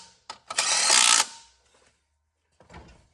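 An impact gun fitted with a 13 mm socket drives bolts down during a 6.0 Powerstroke turbo install: a short loud burst of whirring and hammering, close by, then silence and a brief second rattle.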